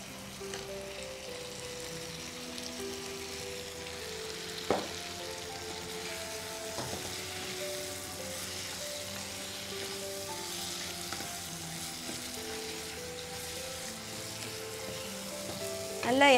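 Paneer cubes sautéing in a spiced masala in a pan for paneer jalfrezi, a steady soft sizzle running throughout with a few brief stirring knocks and background music underneath.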